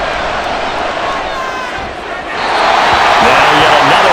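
Stadium crowd roaring in Madden NFL 24 during a Denver Broncos at Buffalo Bills game, a steady loud wash of voices that swells louder midway through a third-down play.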